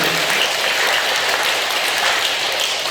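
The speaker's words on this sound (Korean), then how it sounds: "자, 박수 한번 쳐주세요." An audience at a Catholic Legio education session applauds steadily, a dense continuous wash of claps from a large group, loud and even throughout with no voices on top.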